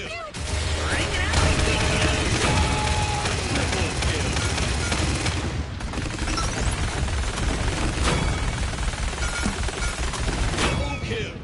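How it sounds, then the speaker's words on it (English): Ruckus unleashing three volleys of rockets in a fast-paced game, a dense continuous roar of launches, blasts and gunfire with a voice talking over the barrage. "You fire off the 3 sets of rockets, and it starts to do a lot of damage."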